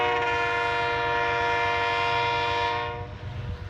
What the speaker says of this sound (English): and then look where the train is.